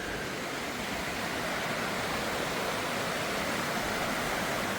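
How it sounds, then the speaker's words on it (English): Water flowing somewhere down in a ravine, heard as a steady, even broadband rush with no breaks, moderately loud and alone throughout. "You can hear the water"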